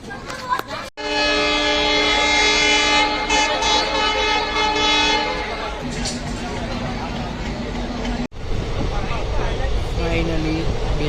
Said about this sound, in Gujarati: હા ટ્રેનમાં બેસી ગયા છીએ